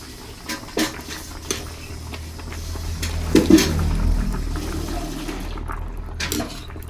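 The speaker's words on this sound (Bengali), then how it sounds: "এভাবে ছেঁকে ছেঁকে আমরা এই ঝুড়িতে নিয়ে নিচ্ছি" Boiled potatoes are strained out of a wok into a basket for homemade potato chips, giving a close, steady wash of draining water punctuated by a few metallic clinks of the utensils.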